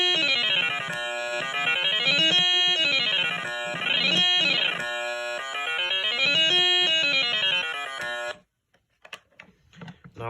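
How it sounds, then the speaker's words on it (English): A buzzy electronic first-generation Stylophone warbles through a rapid, looping run of pitch sweeps on its second effect, then cuts off into near silence with a few faint clicks. "Now, the second effect on the original one sounds like this."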